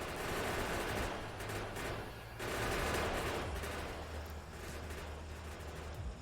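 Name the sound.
gun turrets firing at enemies in the video game Factorio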